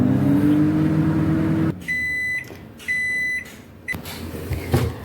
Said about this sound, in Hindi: और माइक्रोवेव को 1 मिनट के लिए हम प्री हीट करेंगे।